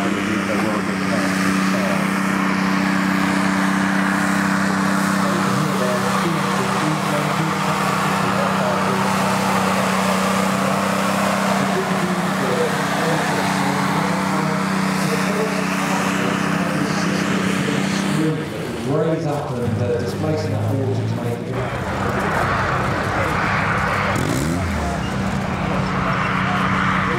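A Valentine DD (Duplex Drive) tank at Tankfest 2019 runs its engine with a loud, steady, close droning rumble; past the midpoint the note shifts and wavers before settling again.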